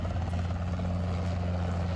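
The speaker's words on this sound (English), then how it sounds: "using helicopters to monitor cattle from the air" A helicopter flies over cattle, its steady low rotor thrum and engine drone continuous and fairly close, with no voices.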